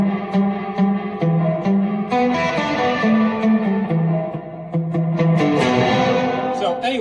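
Electric guitar run through an AFOT Heavy Metal distortion pedal with the reverb turned way up, playing a distorted riff of chunky repeated notes with long, washy echoing tails, loud and continuous.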